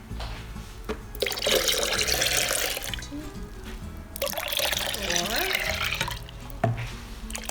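Water running from a tap for Tahitian Terrace punch, two sustained gushing pours separated by a brief pause, fairly close, with someone counting aloud over it.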